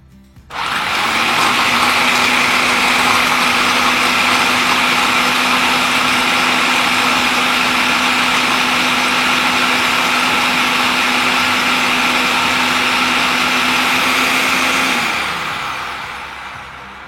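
A kitchen mixer whirs steadily at high speed, blending dry ingredients for chocolate-hazelnut energy balls, including almond butter and nuts; the loud, even drone starts abruptly and runs for about fifteen seconds before winding down, with no talking.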